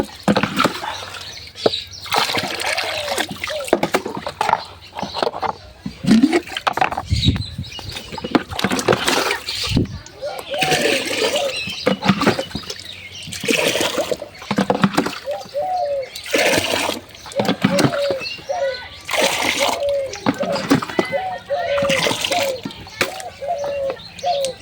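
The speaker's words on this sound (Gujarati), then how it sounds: "પાણી ભરવાનું ચાલુ એ કરી દીધું" Water being filled into drums splashes in irregular loud bursts, close by, with birds chirping and cooing in the background.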